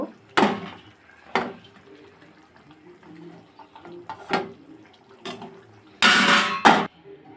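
Paneer is stir-fried with spices in a pan, giving a few sharp metal spatula scrapes and knocks against the pan with quiet gaps between them, then a louder burst of scraping near the end.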